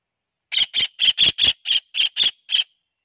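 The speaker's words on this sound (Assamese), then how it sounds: "এইজনী মাছুৰুকা চৰাইজনী" A kingfisher caught in a net gives nine sharp, loud squawks in a quick, fairly even series, close and with silence between calls.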